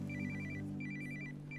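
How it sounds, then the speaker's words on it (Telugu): A telephone rings in repeated trilling bursts, two full rings and the start of a third, clear and close with no talk. "Father phone ring."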